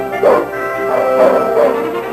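Husky Malamute sled dogs bark in a few short, loud bursts spread across a brief stretch, with a steady harmonic hum running underneath.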